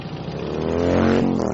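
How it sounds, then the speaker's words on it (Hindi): A scooter's engine hums steadily and builds slightly in pitch and volume as it pulls away, a continuous motor drone with no voices. "और फिर स्कूटर की एक आवाज जाती हुई सुनाई दी"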